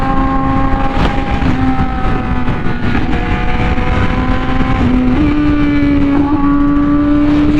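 A Honda Fireblade RR-R SP with an SC Project exhaust screams at high revs during a top speed run, its steady loud engine tone climbing with a brief shift, and heavy wind rush underneath throughout.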